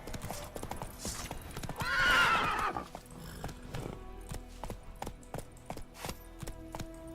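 A horse in Witcher 3 gallops with fast, close hoofbeats, and a loud, drawn-out whinny breaks in near the middle. A brief spoken word is heard.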